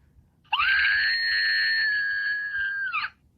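An Archie McPhee screaming electronic figure toy lets out one loud, sustained, shrill electronic scream lasting about two and a half seconds, steady in pitch and ending abruptly, with faint background noise before and after.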